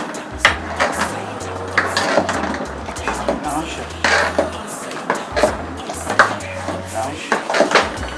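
A spoon stirs a slowly cooking sauce in a pot, giving repeated clinks and scrapes against the metal at an uneven rhythm, close by, over a steady low background of music.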